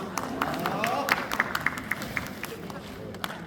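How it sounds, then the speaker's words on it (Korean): An audience at a Korean Red Cross disaster-response volunteer training session on tent setup breaks into a short burst of clapping that trails off into scattered claps, with some murmuring underneath. "예, 박수."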